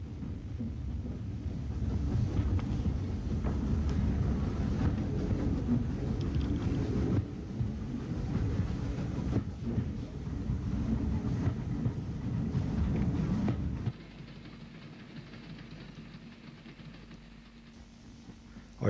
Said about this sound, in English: Our train approaches Oma